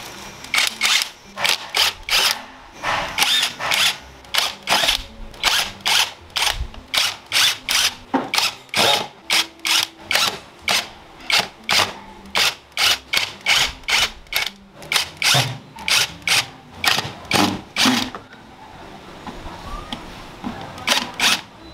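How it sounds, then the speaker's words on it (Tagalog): An impact wrench loosens bolts on a Yamaha NMAX 155 scooter in a long series of short, sharp mechanical bursts. The bursts come in quick regular succession, up close, then stop near the end. "gagamitin natin to ng impact wrench para mas mabilis natin mabuksan lahat"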